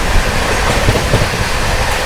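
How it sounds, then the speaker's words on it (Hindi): The Karnataka Express from New Delhi to Bangalore approaching at a railway crossing, heard as a loud, broad, steady rumble and roar mixed with wind, without distinct horn or wheel clicks. "सामने से आ रही है नई दिल्ली से चलकर बैंगलोर की ओर जाने वाली कर्नाटक एक्सप्रेस"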